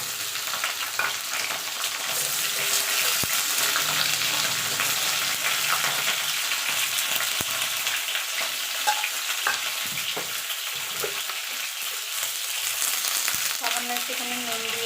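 Pointed gourd and potatoes fry together in a pan, a steady close sizzle with occasional stirring scrapes, no talking.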